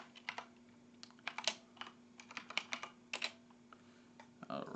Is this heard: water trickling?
no